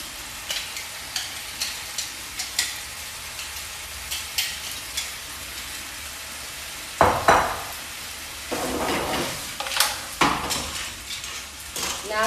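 Seafood and lobster hit a hot pan for a seafood pasta, with a steady sizzle and frying hiss under repeated scrapes and clinks of a utensil stirring against the metal, and a few louder bursts of sizzling.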